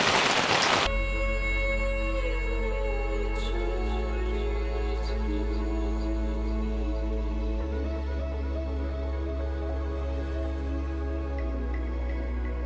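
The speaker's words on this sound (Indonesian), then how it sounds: "Hujannya cukup parah." Heavy rain falls during a hike on Mount Sumbing, a dense continuous hiss of drops on surfaces that stays loud and even under a steady low hum.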